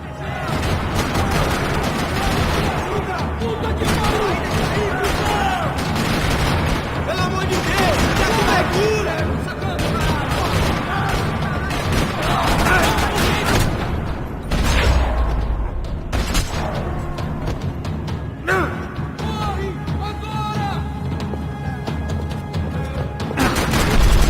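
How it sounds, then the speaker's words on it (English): Dense gunfire rattles around a parking lot in the video game Max Payne 3, with bursts of shots and heavy booms layered over a continuous loud din of clattering and mechanical noise for the whole stretch. "Another parking lot rattling with gunfire."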